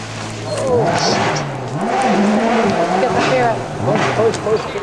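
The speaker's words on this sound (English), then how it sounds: "ahead of Richard as he racks up more miles in his new WRC Subaru" Subaru WRC rally car at the 2004 Dogleap Rally, engine revving hard and rising and falling through rapid gear changes, loud and close with a commentator talking over it.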